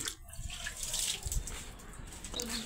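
Water runs steadily into a container, a broad rushing splash that fills the whole clip at a fairly low level.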